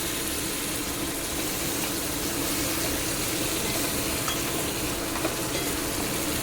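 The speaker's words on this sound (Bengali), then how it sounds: "চলো এরপরে এর মধ্যে চিকেনটা দিয়ে দিই।" Chicken frying in a spiced masala of onion and tomato releasing oil, a dense, constant close sizzle with faint stirring noises, no talk.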